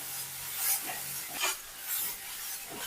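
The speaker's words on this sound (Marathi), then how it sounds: "तुपामध्ये ज्वारी भाजून घ्यायची आहे ज्वारीला छान ड्राय होईपर्यंत भाजून घ्यायचं आहे" Sorghum grains being roasted in ghee in a pan produce a dry, gritty scraping as they are stirred, in rhythmic strokes under a soft, steady sizzle.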